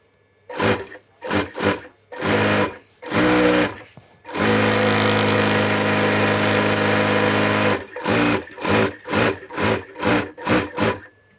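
A sewing machine hems a bespoke shirt in a London shirtmaking workshop: loud short stitching bursts, one long continuous run in the middle, then a quick series of rhythmic bursts.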